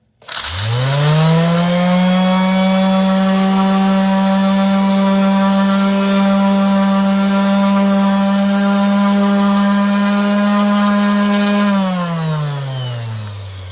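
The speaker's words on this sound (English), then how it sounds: "just turn on the sander" A power sander with a 5-inch sanding disc whirs up to speed, holds a steady loud droning hum for several seconds, then winds down.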